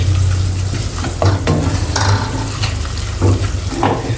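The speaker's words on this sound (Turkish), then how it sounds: "Yağımı koydum. Salçamı koydum. Biraz kavurayım." Tomato paste sizzles in hot oil while being stirred, with scraping and clinks of a utensil against the pan.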